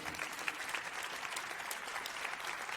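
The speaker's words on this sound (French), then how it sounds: "On peut applaudir Éric Lemonnier." An audience at an award ceremony applauding, a dense, even wash of clapping from many hands that holds steady throughout with no voices.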